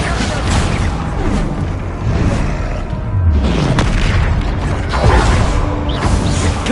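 Heavy booming spell blasts from Hogwarts Legacy's Bombarda charm, several loud explosive bursts with whooshing and mechanical creaks between them, a dense battle of magic effects with no talk.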